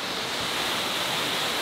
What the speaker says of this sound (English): It's its own little secluded waterfall.